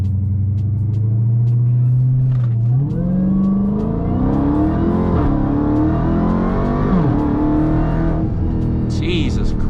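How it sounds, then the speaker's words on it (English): A 2021 Dodge Charger Redeye Widebody launches on launch control, its supercharged engine holding a loud steady idle-rev before surging and climbing through gears, with people talking over the roar. "activate launch control. Vehicle will launch at 1600 RPMs."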